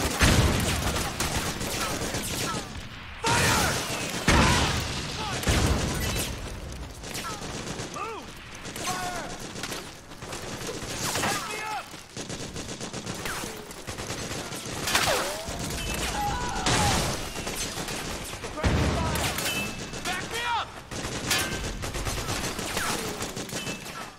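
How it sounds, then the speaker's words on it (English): Dense gunfire from the video game Metal Gear Solid 4, with sustained automatic bursts, explosive crashes and battle chaos filling the whole stretch, loud and continuous with shouted voices mixed in. "Suppressing fire!"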